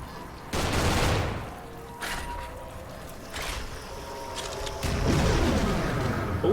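Gunfire in the video game Doom, several sharp blasts and a bursting volley set against a rumbling game backdrop, loud and close, with the final shots landing heavier than the first.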